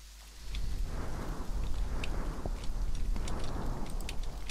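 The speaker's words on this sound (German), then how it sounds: "Das sah nach normalem Gewitter aus." A thunderstorm in the video game Green Project: steady rain hisses throughout with a low rumble of thunder underneath and scattered drop ticks, moderately loud after a quieter start.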